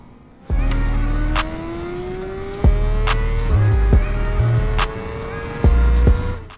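A BMW S1000RR sport motorcycle engine screams up through the gears on a track straight with rising pitch, several sharp shifts punctuating the loud, close acceleration.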